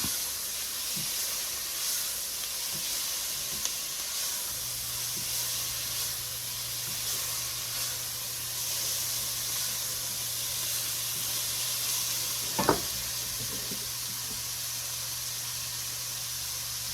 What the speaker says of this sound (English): let those saute for a couple of minutes so they get nice and soft